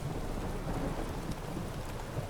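A Witcher 3 thunderstorm gives a dense, steady hiss of heavy rain with low rumbling thunder rolling underneath, continuous and enveloping with no speech.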